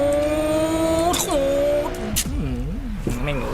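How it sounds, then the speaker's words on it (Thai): A hypercar in the Racing Master racing game revs hard, its engine pitch climbing then dropping sharply at quick gear shifts, with wavering revs and a brief tire screech, all loud and close. "ฟังแค่รอบการตัดเกียร์ของไอ้รถคันนี้"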